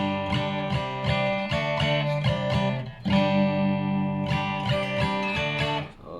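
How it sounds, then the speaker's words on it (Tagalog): Electric guitar through a Boss GT-6 with its humbucker simulation engaged, repeated strummed chords in a steady rhythm with a brief break midway, full and close, no voices. "So tunog humbucker na siya."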